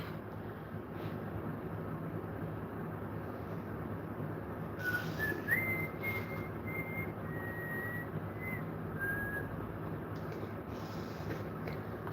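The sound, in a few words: person whistling a song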